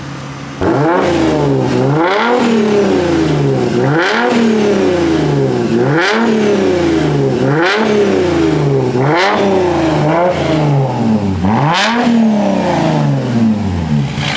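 A Mercedes-AMG W204 with an upgraded exhaust revs repeatedly, each rise climbing and falling back in a steady rhythm of about seven loud, close blips with no talk over them.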